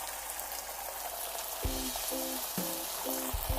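An egg fries in a little hot oil in a pan for a breakfast quesadilla, giving a steady close crackling sizzle throughout, with a few short low tonal blips in the second half.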